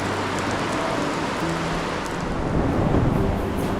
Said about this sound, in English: Nice big storm.